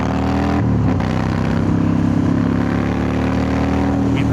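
Motorcycle engine droning steadily at speed on a highway test drive after an underdrive pulley install, loud and close with a sustained rumbling hum and a brief shift in pitch early on.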